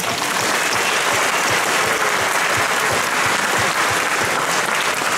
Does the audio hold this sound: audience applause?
yes